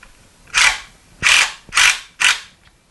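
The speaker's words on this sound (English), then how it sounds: "So let's remove the bolt from it first with the 5/8 or a 16 millimeter." A socket wrench ratchets on a bolt during a 700R4 transmission rebuild, giving four close, loud bursts of clicking separated by short pauses.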